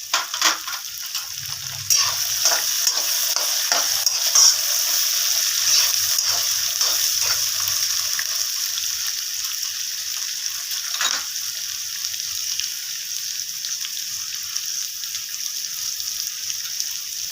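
Potatoes frying in hot oil for a hotel-style tomato bath, a steady, close sizzle with bright crackling and a few stirring scrapes, continuing without talk.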